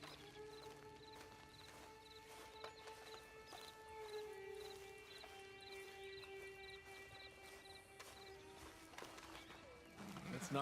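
Steady clip-clop of horse hooves in Red Dead Redemption 2 Online plods along over a droning, tonal game soundtrack, all fairly quiet.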